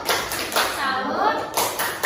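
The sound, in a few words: schoolchildren doing the tepuk salut clapping cheer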